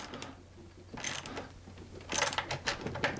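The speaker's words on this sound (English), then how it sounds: "we fix it with a 10mm wrench" A 10mm wrench works on the hardware of a G&L Tribute guitar, giving soft metallic clicks and ratcheting scrapes in short bursts that grow busier toward the end, close up and with no voices.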